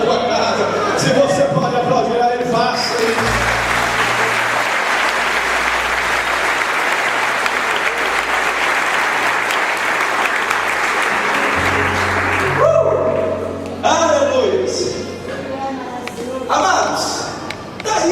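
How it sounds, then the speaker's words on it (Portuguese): Congregation in a Baptist church applauding loudly and steadily for about nine seconds, set between stretches of a preacher's amplified voice with music underneath. "Se você pode aplaudir a Ele, faça."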